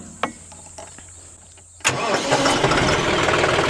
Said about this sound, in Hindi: ट्रैक्टर को कर लेता हूं मैं सीधा स्टार्ट।